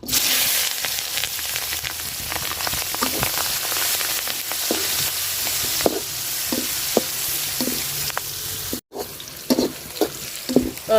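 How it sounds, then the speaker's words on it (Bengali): Onion and chopped chili sizzle and crackle steadily as they fry in hot oil, heard close, with irregular scraping taps of a stirring utensil running through the frying. "তেলে আমি পেঁয়াজ আর মরিচ কুচি দিয়ে দিলাম"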